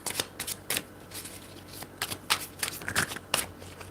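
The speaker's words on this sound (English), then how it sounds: "why is it so difficult to shuffle this?" Tarot cards are shuffled by hand at close range, a run of quick papery riffles and soft slaps in irregular bursts with no talking.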